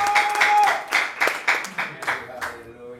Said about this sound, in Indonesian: Jangan tanggung-tanggung tepuk tangannya.